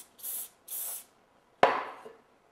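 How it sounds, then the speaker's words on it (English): Two short hissing bursts of spray adhesive misted onto a larger piece of crown molding for a glued miter joint, each about half a second, close and steady, followed by a sharp knock and a decaying rattle. "And I'll spray the bigger piece."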